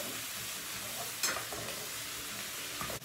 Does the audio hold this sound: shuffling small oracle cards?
no